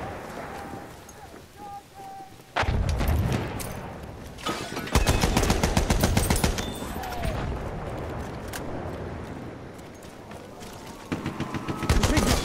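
Bursts of automatic fire from a Fedorov Avtomat rattle in rapid, loud volleys, some close and some farther off, while shouting voices break in between the strings of shots.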